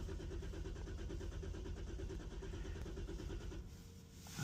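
A used car bought at an auto auction, low on fuel, runs with a steady close engine drone and a regular low rumble, dropping away near the end before a brief louder burst.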